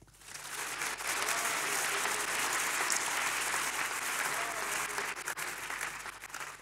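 A worship congregation applauds loudly and continuously, dense clapping that swells in quickly and holds for several seconds before easing slightly.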